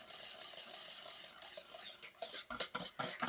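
A whisk stirs hot chocolate pastry cream in a bowl, its quiet, rapid scraping and clinking growing sharper and more uneven toward the end, close by and with no talking.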